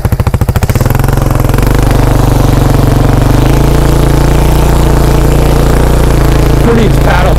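A quad ATV engine stuck in a river revs loudly and steadily at close range, a throbbing mid-pitched drone that holds for several seconds with faint splashing and voices underneath.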